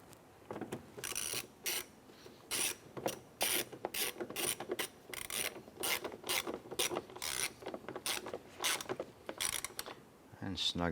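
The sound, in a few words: screw being tightened on Chevrolet Impala door handle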